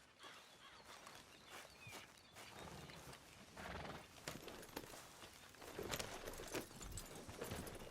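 A horse in the video game Red Dead Redemption 2, with clip-clopping hooves and a neigh amid ambient game sounds, moderately loud and uneven, no talk.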